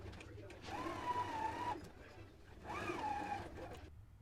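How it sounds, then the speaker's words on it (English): A home sewing machine stitches a shoulder seam on a summer top in two short runs, its motor whirring and pausing between bursts, heard quietly at close range. "go ahead and take it to the sewing machine and sew it."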